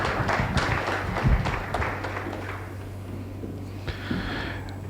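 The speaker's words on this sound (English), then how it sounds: "A round of applause for her as she comes up." Scattered applause from a conference audience at an SME business event greets a speaker walking up to the stage; moderate clapping over a steady low hum, gradually thinning out.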